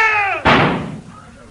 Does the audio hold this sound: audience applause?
no